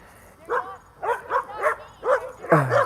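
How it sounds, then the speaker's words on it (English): A dog gives a run of quick, high-pitched yips and barks, about six in under three seconds, fairly close with light background noise. "These dogs are loud."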